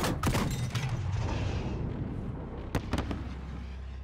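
Grenade blast in Call of Duty Modern Warfare, a loud booming burst with crackling debris that fades into a low rumble, followed by a few sharp distant reports.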